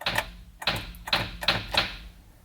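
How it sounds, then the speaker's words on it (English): A Holley Terminator fuse and relay panel for a trans brake and bump button clicks five times in an uneven rhythm, each sharp, close click followed by a short rattle, with no talk. "So you can hear it clicking when I hit the button"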